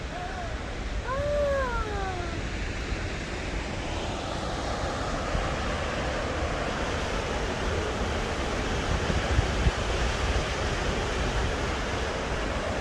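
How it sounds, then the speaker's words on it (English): A waterfall at High Falls on Minnesota's North Shore roars with a loud, steady broadband rush, with a brief vocal sound near the start. "We made it to our next waterfall location. This is High Falls."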